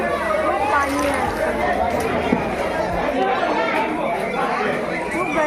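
Dense crowd chatter fills a busy fish market, many voices overlapping steadily and close for the whole stretch, with no single voice standing out.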